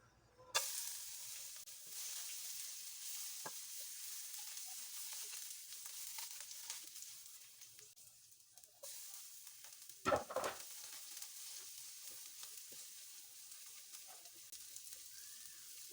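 Garlic and ginger sauté in a pan with a soft, continuous sizzle, punctuated by occasional stirring clinks and a louder scrape near the end.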